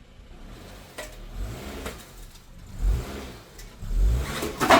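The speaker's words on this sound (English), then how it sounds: "Slowly start driving up the ramps." A 2021 Honda HR-V creeps slowly up vehicle ramps, its engine rising in several low rumbling surges with light clunks as the tyres climb, fairly close and with no talk.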